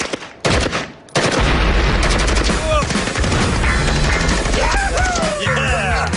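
Rapid firearm gunfire in the USA, a dense, loud, continuous burst of shots that stops briefly and then resumes in sustained rolling volleys with crashing impacts.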